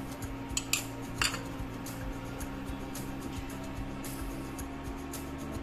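A metal spoon scraping and clinking against a pan while chhena is stirred for kalakand, with a few sharp taps over a steady low hum from the stove and kitchen, and no talk.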